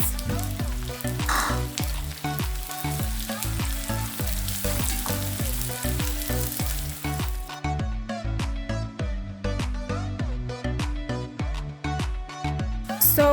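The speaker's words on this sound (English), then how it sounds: "using the same oil guys, we are going to cook our onions golden brown" Onions fry in reused oil until golden brown for beef pilau, a constant sizzle under brisk, regular stirring knocks repeating every fraction of a second, close and fairly loud.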